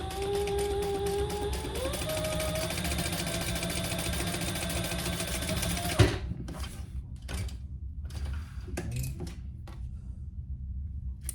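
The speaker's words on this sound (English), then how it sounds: "then top stitch one end of it, which I'm using the folded end" A sewing machine top stitches the folded end of fabric for a wristlet, running as a steady motorized whir for about six seconds, then stopping abruptly, followed by a few soft clicks and handling noises.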